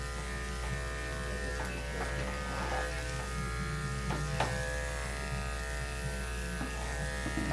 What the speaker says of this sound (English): hey, DD, we usually shave him down, but this time we just want to do belly and sanitary only